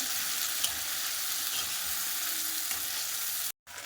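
Ground spice paste fries with bay leaf in a pan, giving an even, close sizzle with faint stirring movement that cuts out briefly near the end before resuming, and no one speaks.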